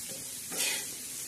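Chopped onions sizzle in a hot pan while being stirred, giving a steady close frying hiss with a brief louder scrape of the stir partway through.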